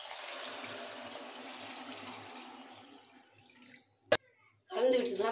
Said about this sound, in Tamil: அஞ்சு அழகு தண்ணி சேர்த்துக்கலாம்.